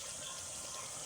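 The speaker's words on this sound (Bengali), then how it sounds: "এখন জল দিয়ে দিব" Water pours into a pot of browned mutton curry in a handi, a brief, faint, steady rush of liquid with no voices.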